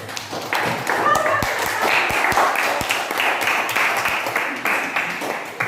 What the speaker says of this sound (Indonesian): tepuk tangan dulu untuk Anus.